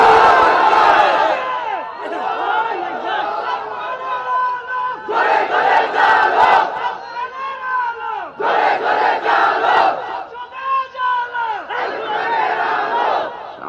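A large crowd at an outdoor Islamic religious sermon gathering shouts a loud, unison takbir response in repeated bursts, each swell of voices rising and falling in a chanting rhythm with brief pauses between.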